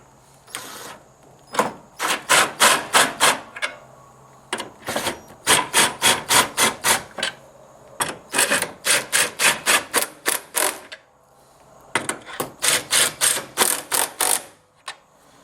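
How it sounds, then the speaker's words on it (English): Impact driver fitted with a deep well socket tightening a woodworking clamp, firing in repeated rapid hammering bursts of about two seconds each, separated by short pauses, close and loud with no talk. "This is an impact driver with a deep well socket on it. I'll use that to tighten my clamp."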